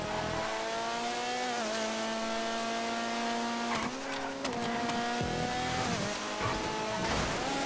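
A small Omnis car's engine in Grand Theft Auto V drones steadily and loud, with pitch climbing and dropping through gear shifts, brief tire squeals and a couple of sharp knocks mixed in.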